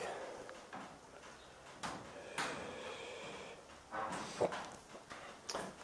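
Metal loading-chamber door on a homemade pipe-built boiler swinging open, a few close scrapes and knocks from the latch and hinge amid faint room noise.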